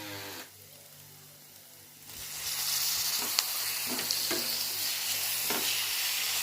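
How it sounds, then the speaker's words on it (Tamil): Tomatoes sautéing in a pan start as a quiet low simmer, then break into a louder, steady sizzle partway through, broken by a few stirring clicks, with no voices. "இப்போ வந்து தக்காளி நல்லா வதங்கட்டும்."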